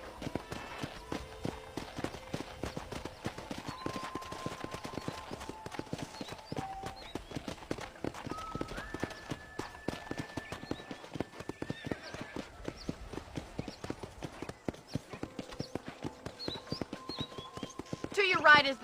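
A horse being ridden in the video game Red Dead Redemption clip-clops at a steady gait, with rhythmic hoof falls throughout and a brief flurry near the end, under intermittent talk and a quiet game soundtrack.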